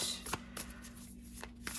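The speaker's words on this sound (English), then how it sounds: "so sometimes it's hard to shuffle them. Let's shuffle one more time." Quiet, quick flutters and slaps of a bent oracle card deck being shuffled by hand, several short bursts in a row.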